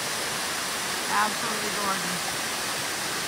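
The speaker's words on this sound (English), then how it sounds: "Waterfalls on this trail." A waterfall on a hiking trail along the Appalachian Trail in New Hampshire's mountains gives a constant, broad rushing roar that fills the whole clip, with someone speaking briefly over it.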